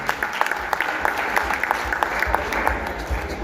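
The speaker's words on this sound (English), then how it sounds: "can we clap for our judges as well?" An audience at the SAASC 2025 Energy Challenge applauds its judges with continuous, fairly even clapping from many hands that fills the room throughout.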